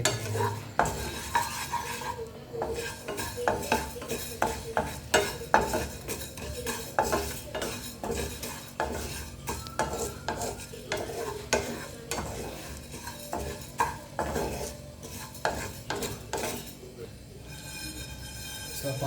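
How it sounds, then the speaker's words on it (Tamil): Moong dal dry-roasting in a pan for a Chettinad sweet, stirred continuously with a spoon: a long run of quick, rhythmic scraping and rattling of the grains against the metal, close and busy, with a faint sizzle beneath. "மூங் டால் பாசிப்பருப்பு இதையும் நல்லா ஃப்ரை பண்ணிடுங்க."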